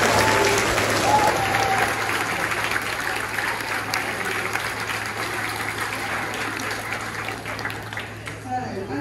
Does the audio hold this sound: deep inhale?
no